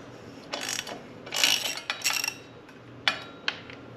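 A ratchet wrench loosens a 12mm exhaust head pipe nut on a 2024 Honda CRF 250RX, giving several short, close clicking bursts in an irregular rhythm with brief pauses between them, no voices.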